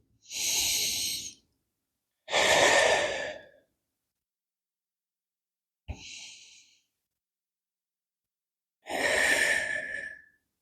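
Four slow, deep breaths during a recovery yoga forward fold over the right leg, each a long, close, airy exhale or sigh separated by silent pauses, with one shorter breath in the middle.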